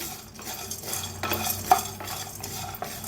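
A spatula scrapes and stirs sesame seeds dry-roasting in a hot pan, with soft rustling, light crackles and a few sharper scrapes.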